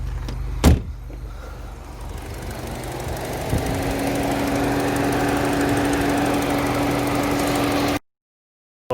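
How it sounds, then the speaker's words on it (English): Mini Cooper engine starting and settling into a steady idle during an oil filter service, preceded by a sharp clunk; a close, continuous running hum with a faint whine, no talking, ending in sudden silence. "Car engine on, going to leave that for 15 minutes."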